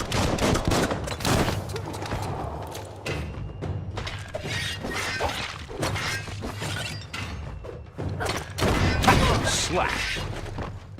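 Gunfire in the action RPG Biomutant, a dense barrage of shots and shattering impacts crackling throughout a chaotic fight, mixed with game sounds and a voice talking over it.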